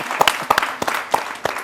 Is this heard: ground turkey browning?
no